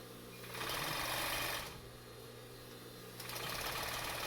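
A serger sewing machine stitches a seat cover for a 1959 Ford 300, running in two steady whirring bursts, the first from about half a second to a second and a half and the second near the end, over a constant low motor hum.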